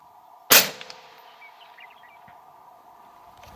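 A single loud rifle shot fired outdoors while sighting in, a sharp crack followed by a fading echo over a steady background hum.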